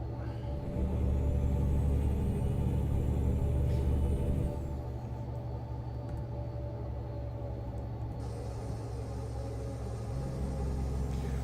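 A Volvo truck in American Truck Simulator drones with a low engine rumble hauling heavy special-transport cargo, steady and continuous, dropping slightly in level partway through, with no talking.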